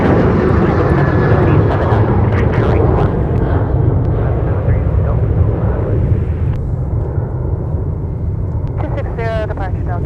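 A Delta airliner departs Minneapolis–St. Paul airport, its loud, steady jet roar filling the scene with broadband rumble, while a voice speaks over it and radio tower chatter cuts in near the end.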